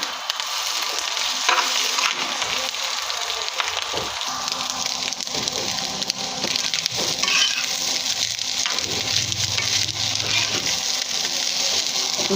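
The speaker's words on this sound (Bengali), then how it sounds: "এবার আমি ডিমটা দিয়ে একটু ভেজে নিচ্ছি। যেহেতু মাছের ডিম ভাজি, তাই একটু তেল একটু বেশি লাগে।" Fish roe frying in plenty of oil with sliced green chillies, a continuous close sizzle with occasional stirring scrapes and no speech.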